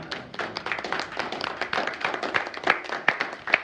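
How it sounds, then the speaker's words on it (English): An audience at a historical society general meeting gives a round of applause, a dense stretch of many hands clapping at close range that carries on steadily for several seconds with little talk. "Let's give Terry a round of applause"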